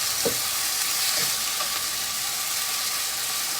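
Thinly shaved steak frying in a pan, making a constant, even hiss with a few faint stirring knocks early on.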